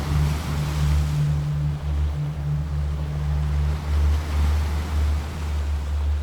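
Ocean waves at the sea, a close, continuous low surging wash that swells and recedes in slow, repeated cycles, with a steady low hum beneath.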